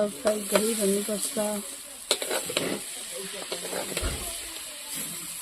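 Food frying in a pan during village-style home cooking, with a soft sizzle and hiss, occasional stirring clatter, and voices talking in the background.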